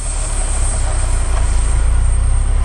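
UAZ Patriot turbo off-road vehicle engine running during break-in on an off-road trip in Bashkiria, a loud steady low rumble with a continuous drone, close and without talk.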